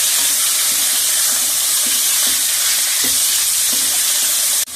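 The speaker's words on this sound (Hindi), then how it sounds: "अच्छी तरह फ्राई करना है चिकन को" Chicken pieces fry steadily in ghee with golden ginger and garlic, a continuous loud sizzle with soft stirring taps, no voices.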